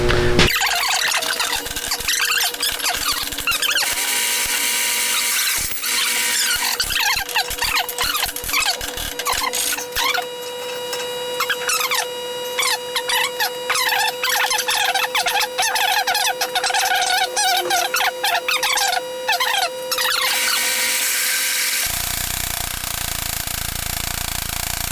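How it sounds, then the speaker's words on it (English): Power drill boring holes in Jeep Cherokee steering parts in a shop, a long continuous high squealing whine with shifting pitch and rapid scraping, loud and close, stopping near the end. "I'm going to drill some holes."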